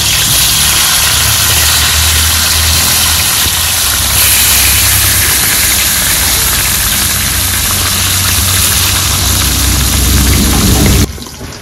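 Rohu fish pieces frying in hot oil, a steady close sizzle and hiss that holds evenly throughout, then cuts off abruptly near the end.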